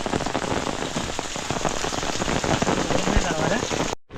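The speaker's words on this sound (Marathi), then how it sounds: "पाऊस आला" Rain pours steadily over a Konkan village, a dense, loud, even patter of drops hitting surfaces that continues without a break until it cuts off near the end.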